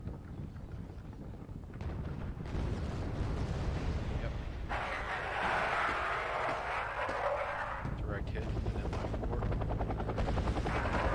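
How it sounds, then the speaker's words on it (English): Scout helicopter in the Wargame: AirLand Battle video game, a steady rotor drone that runs throughout under rumbling battle noise, with a brighter whooshing swell in the middle and talk-like sounds mixed in. "bringing out another scout helicopter to try and get eyes"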